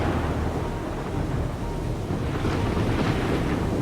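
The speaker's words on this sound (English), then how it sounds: "Thunder crashed. Boom!" Thunder crashes and rumbles through a terrible night storm with lightning and pouring rain, a dense, sustained roar that swells slightly toward the end, with no speech.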